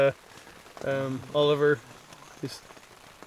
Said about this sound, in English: It's still raining, but it's not like...